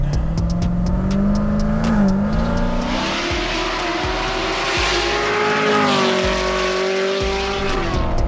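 A modified C7 Corvette Z06 making 816 horsepower accelerates hard, its loud engine note climbing steadily through the revs with brief dips at gear shifts, close and continuous with no talk.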